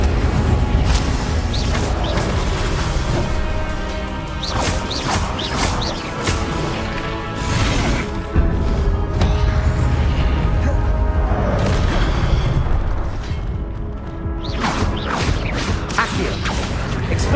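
Spell effects from Hogwarts Legacy, including an Incendio fire spell, come as bursts of whooshing, booming impacts amid a dense, continuous bed of game music and combat noise.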